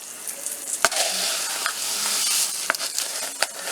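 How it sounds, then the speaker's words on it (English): Rice browning in a hot pan with a steady sizzle, broken by several sharp scraping knocks as it is stirred, close and fairly loud with no talk. "We got to brown this rice."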